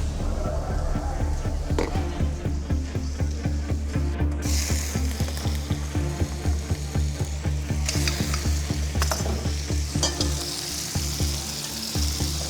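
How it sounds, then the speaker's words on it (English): A bird stir-fried in a wok sizzles loudly and steadily throughout, with rapid rhythmic scraping and clacking of the utensil against the pan and a busy, noisy kitchen around it. "the only thing that comes to my mind is to make a stir fry"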